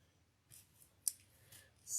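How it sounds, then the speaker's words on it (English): Scissors trimming ribbon tails on a peppermint candy wreath: a few quiet, close snips and clicks, one sharper cut in the middle, faint and soft against near silence. "We're going to go ahead and trim off our tails"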